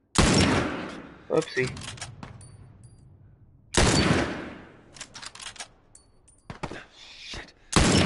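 Gunfire in The Last of Us, sharp broadband bursts of shots in two volleys with decaying tails, loud and close, with a voice speaking briefly between them.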